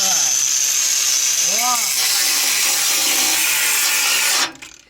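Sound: power tool cutting a bolt

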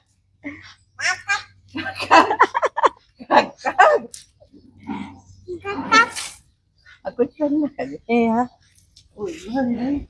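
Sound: dogs barking

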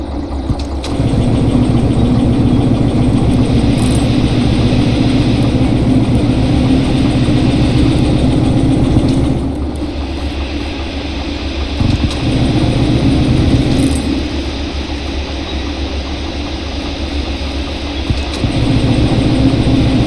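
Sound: locomotive engine running while moving, from video game Derail Valley

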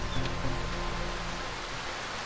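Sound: rain in the video game Darkwood

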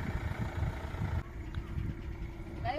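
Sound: car being driven out, engine running

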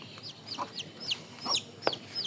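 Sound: chicken chicks

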